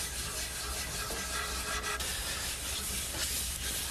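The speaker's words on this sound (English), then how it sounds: "I'm taking a clean rag and rubbing it in a circular motion" A clean rag rubs wood stain into a pine stool in circular strokes, giving a steady, close, continuous scrubbing hiss with no talk.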